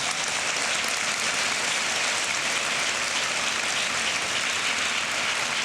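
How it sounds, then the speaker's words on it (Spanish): Church congregation applauding in a long, dense, steady wash of clapping that fills the room evenly from start to finish, with no voices standing out. "Denle un aplauso al Señor."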